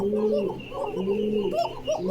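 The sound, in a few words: male pigeon cooing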